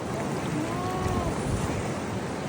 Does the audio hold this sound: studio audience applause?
no